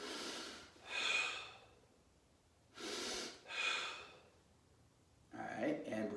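Deep audible breaths during Sanchin karate kata practice, long rushing inhales and exhales in slow cycles, close and fairly loud, with a voice briefly at the end.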